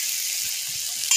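Chopped tomatoes going into a hot frying pan for a saag and fish curry meal, a loud continuous hiss and sizzle throughout, swelling briefly at the end.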